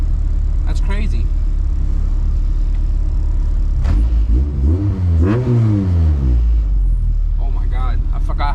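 A loud JDM Honda, a right-hand-drive DC2 Type R, EG5 or EF2, revs hard up close in several rising and falling sweeps, with a constant heavy idle rumble between pulls and brief talk near the start.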